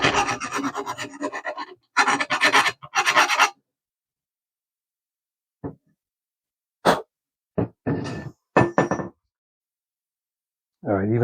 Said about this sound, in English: after you cut it, it's a good idea to file down the burrs.